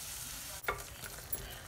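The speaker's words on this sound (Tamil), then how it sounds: "இந்த தக்காளி நல்லா குழஞ்சி வணங்கட்டுங்க." Tomatoes stirred as they fry in hot oil with sambar powder, giving a steady close sizzle with one sharp scrape of the spoon partway through and a softer one near the end.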